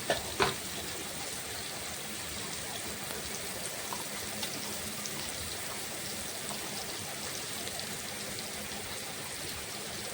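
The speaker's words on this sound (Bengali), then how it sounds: "পেঁয়াজগুলো কুচিগুলো নাড়াচাড়া করে একটু ফ্রাই করে নিচ্ছি ফ্রাই প্রায় হয়েই যাচ্ছে" Chopped onions frying in a pan, a dense, steady sizzle that stays even and close throughout, with a couple of sharp knocks right at the start.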